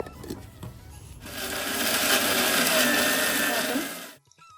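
A kitchen mixer grinder whirs loudly as it grinds peanuts, green chilies and salt for a fasting-day curry, running steadily for about three seconds after a brief quieter start, then cutting off abruptly.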